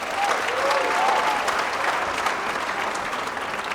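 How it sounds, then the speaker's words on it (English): Steady applause from an audience at an anniversary celebration, dense and continuous for the whole stretch, with no voices heard over it. "Please give Sis Nosipho a big round of applause."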